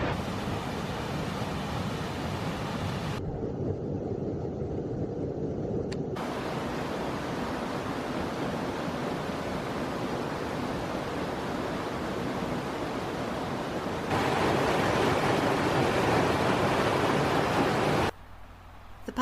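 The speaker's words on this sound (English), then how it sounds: "I'm going to show you the waterfall now" Steady, full-bodied rush of a waterfall in Scotland, constant and loud throughout, swelling brighter and stronger near the end before cutting off abruptly.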